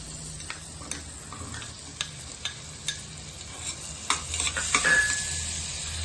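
Onion and garlic fry in a pan for a healthy pumpkin carrot soup, a steady close sizzle punctuated by scattered clicks and scrapes of a spoon against the pan, growing louder toward the end.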